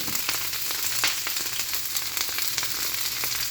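Chicken and cabbage stir-fry sizzling in a hot pan, a steady loud crackle with scattered sharp pops throughout, no talking.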